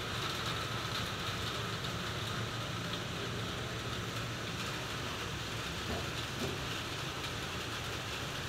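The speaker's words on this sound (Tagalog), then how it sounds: "malakas na naman po ang ulan" Heavy rain falls outside during cooking, a steady, fairly faint wash of patter and hiss that holds unchanged throughout with no talking.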